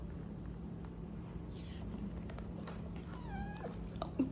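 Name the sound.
cat meowing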